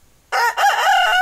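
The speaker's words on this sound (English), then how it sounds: "here is my buddy, Mr. Rudy the Rooster" A rooster crows once, loud and close, a long strained cock-a-doodle-doo that holds its rasping tone to the end.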